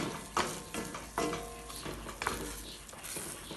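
Dry bulgur grains scrape and rattle as they are roasted and stirred in a pot, with a light sizzle underneath, close and irregular.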